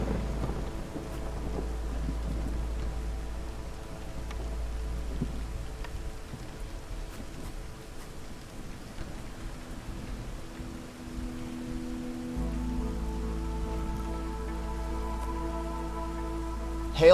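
Storm ambience from the video game Against the Storm: steady rain pattering on surfaces with deep rolling thunder rumbling underneath, continuous and fairly loud throughout with no talking.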